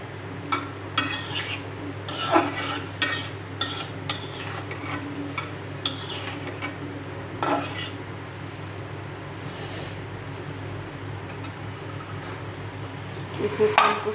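A spoon stirs pumpkin sautéing with shrimp in a pan, giving a scattering of scraping clinks and taps over a low sizzle, with talk heard at times.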